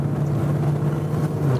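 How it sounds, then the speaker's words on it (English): A car engine switched into sport mode hums with a steady, loud low drone at idle or light throttle, close by and constant with no talking. "So if I go to sport on the engine, you hear it immediately kind of kicked in."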